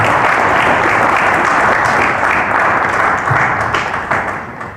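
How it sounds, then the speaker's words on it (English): Loud, close applause from a conference audience at a high-level African Union dialogue, a thick continuous roar of clapping that tapers off slightly toward the end. "Can we please give her a round of applause for us?"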